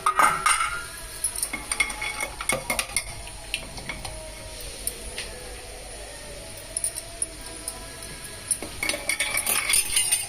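A roti cooks in a pan and is flipped with a metal spatula, giving repeated scraping and clinking of metal on the pan over a low steady sizzle, close and busy, with no talk.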